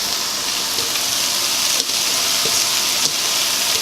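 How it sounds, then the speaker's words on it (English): Mushrooms frying in a non-stick pan give a steady, even sizzle and hiss that runs without a break from start to finish, close up and fairly loud, with no talking. "get your mushrooms in there. And we'll let those cook for a few minutes"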